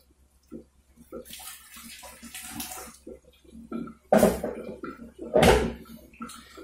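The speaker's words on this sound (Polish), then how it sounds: "Trochę gorącej wody." Hot water is poured into a home-brew pine-shoot AIPA beer mash, with scattered splashes and sloshing that build to two loud, brief gushes near the end.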